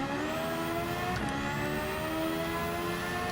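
A race car engine in Gran Turismo 7 runs on a lean fuel mixture and holds a steady, high-revving drone through a dog-leg corner. It sounds close and continuous, with no talking.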